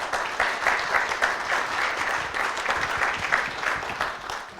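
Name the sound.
audience applause at award ceremony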